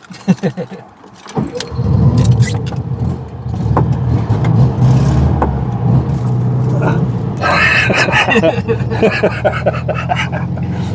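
A 1972 Volkswagen Beetle's engine pulls away slowly, a steady low rumble that builds and holds close by, with a sharper rattling burst partway through and people talking inside the car.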